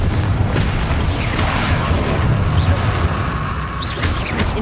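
A Confringo explosive spell cast in the video game Hogwarts Legacy gives a dense, booming blast with a rumbling low end and crackling debris that fills the whole few seconds at steady loudness, with no talking over it.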